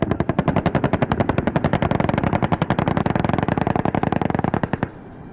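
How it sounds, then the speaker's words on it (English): Rapid bursts from 20mm helicopter turret guns strafing the ground: a loud, close, relentless string of evenly spaced shots lasting nearly five seconds, then cutting off abruptly into a low background rumble. "The helicopters are strafing the area. The deadly burst of 20mm rounds are neutralizing the enemy on the ground."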